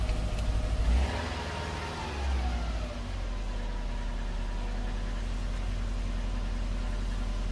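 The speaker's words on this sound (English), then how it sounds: "that's the factory sound. Sounds like a factory STi, I guess, right?" A Subaru WRX STi hatchback with a factory exhaust blips its engine a couple of times, then settles into a steady low idle, heard up close with no talking.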